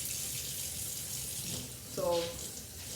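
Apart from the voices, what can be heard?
tap water running for measuring cups of water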